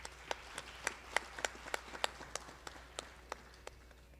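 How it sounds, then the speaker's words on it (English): Sparse, faint claps sound out one at a time in an uneven rhythm, a small audience at an arangetram dance recital applauding the dancer, with distinct individual hand claps over a quiet room. "Let's give her a big round of applause."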